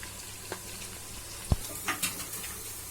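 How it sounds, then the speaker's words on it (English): Curry leaves dropped into hot oil already holding cloves, cinnamon and cardamom, giving faint sizzling and frying crackle with a sharp clink of a utensil against the pan and a few soft spatters. "Now I'm putting a handful of curry leaf."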